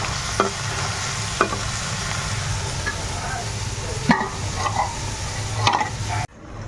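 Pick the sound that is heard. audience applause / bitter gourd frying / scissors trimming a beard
bitter gourd frying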